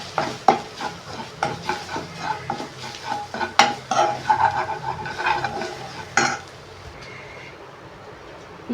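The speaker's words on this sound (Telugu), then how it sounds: "మ్యాగీ మసాలా అన్నీ ఫ్రై చేసుకున్నాం." Maggi noodle masala and chicken masala frying in a pan, with rhythmic scraping and stirring strokes of a utensil over a steady sizzle, the stirring stopping near the end and leaving a quieter hiss.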